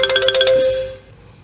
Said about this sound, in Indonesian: Ini ada telepon interaktif yang masuk.